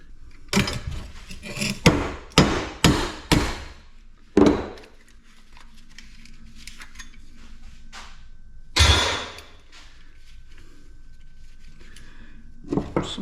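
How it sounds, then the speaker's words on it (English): Sledgehammer striking a brass garage door opener part clamped in a steel vise: a quick run of five loud, close metallic blows, another hit shortly after, then a single heavy strike later and a faint final tap, with quiet room noise between. "Sometimes a sledgehammer is just the way to go"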